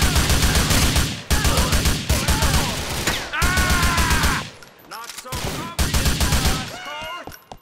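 Heavy gunfire from the video game GTA 4 comes in loud repeated bursts separated by brief pauses, with clattering and crashing under it, and a voice speaks over part of the action.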